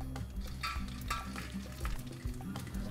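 Cardamom, cloves and cumin sautéing in ghee, a low continuous sizzle with scraping stirring strokes and light utensil clinks against the pan, close and fairly quiet with no voices.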